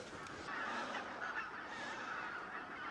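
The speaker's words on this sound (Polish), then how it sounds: "te wszystkie gąski siadły na jeziorze Ptasim Raj" A large flock of geese honks in a dense, continuous chorus while settled on a lake at the Ptasi Raj bird reserve in late autumn, loud and steady with no voices.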